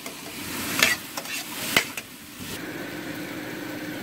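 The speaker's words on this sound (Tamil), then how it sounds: "ஆனியன் போட்டு கொஞ்சம் சால்ட்டு போட்டுட்டு மீடியம் ஹைக்கு வச்சு நான் நல்லா மணக்கிறேங்க" Onions with salt and curry leaves cook in oil over medium-high heat for a chicken varuval kulambu, a steady low sizzle broken by a few sharp spatula scrapes and clinks, close by with no talking.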